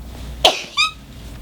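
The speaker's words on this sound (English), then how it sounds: "Oh gosh, sneezing." A single sharp human sneeze bursts out close to the microphone, followed a moment later by a short breathy exhale or sniff, with nothing else around it.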